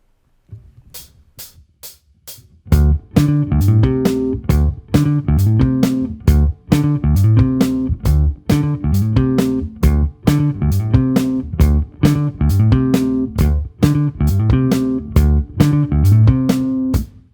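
Bass guitar plays a riff in D at about 135 beats per minute, a few plucked notes opening before the punchy, syncopated figure repeats steadily and loudly throughout.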